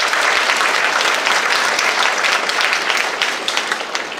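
A large audience applauds the stage crew at a high school band and symphony orchestra concert in a church venue. Dense, sustained clapping holds loud and steady, then thins and tapers off toward the end.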